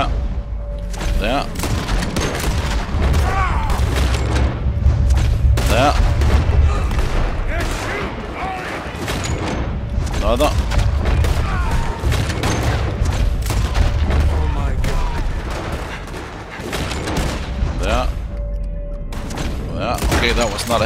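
Frequent gunshots during a bank robbery escape in the western game Red Dead Redemption II, sharp reports firing irregularly over a dense background of action noise and rumble, with voices mixed in.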